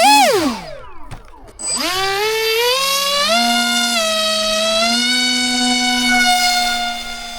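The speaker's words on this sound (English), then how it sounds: "This is a novelty flying Superman" An electric motor on a flying Superman RC model plane whines loudly and nearby, dropping in pitch as it throttles down, cutting out briefly, then surging back and holding a high steady drone that rises gradually as it climbs.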